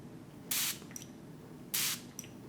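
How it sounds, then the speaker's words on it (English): A handheld spray bottle is pumped twice at arm's length, each press giving a short, sharp hiss about a second apart, followed by a faint click, against a quiet room. "hold this at an arm's length and spray"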